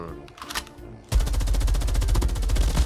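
Rapid automatic gunfire in Call of Duty, a loud sustained burst of evenly spaced shots following a quieter moment with a few faint reports.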